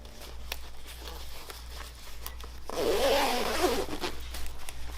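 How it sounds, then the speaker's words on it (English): The inner liner zipper of an M-65 field jacket is pulled up in one steady, close rasping run lasting about two seconds, after some quieter fabric handling and ticks, with no talking. "go ahead and start to zip that up"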